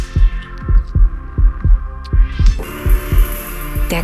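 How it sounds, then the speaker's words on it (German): A loud heartbeat thumps in a steady double-beat rhythm, close and heavy, over a low throbbing hum, with a bright rising tone swelling in near the end. "Dein lauter Herzschlag beim ersten Kuss."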